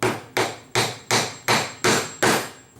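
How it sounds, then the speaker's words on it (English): An axle is driven into a wooden wheel for a small toy car, seven evenly spaced hammer blows ringing sharply and close, each decaying quickly, with no talking. "then we'll take one of our axles and then we'll drive it home with a hammer"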